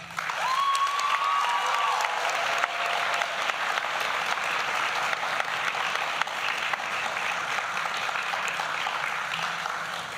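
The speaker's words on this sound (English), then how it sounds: "Students, please applaud your family, friends, and loved ones." At a nursing pinning ceremony, graduating students give long, steady applause to their families and friends, a broad, even roar of many hands clapping in a large hall with a brief tonal whistle early on.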